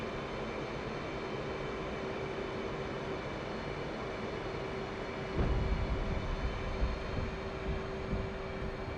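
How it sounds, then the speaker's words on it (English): Jet engine roar of an F/A-18 Hornet landing on an aircraft carrier in the DCS World flight simulator, a steady loud whine and rumble, with a sudden heavier low thud and surge near the end as it catches the wire. "Congratulations on landing the Hornet."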